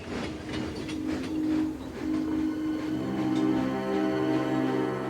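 A train rolls along the rails with a steady rumble and faint rhythmic clatter, a low drone building and holding throughout.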